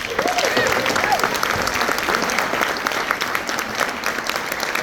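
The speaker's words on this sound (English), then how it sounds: "How about a round of applause again?" An audience at an award ceremony honoring a philanthropist at a chamber of commerce event gives sustained, loud applause, a dense wash of clapping filling the room with faint crowd voices mixed in.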